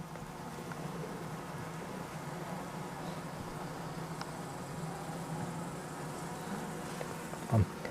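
A continuous low hum of many honeybees buzzing together at a hive, steady and moderately quiet throughout, with a brief thump near the end.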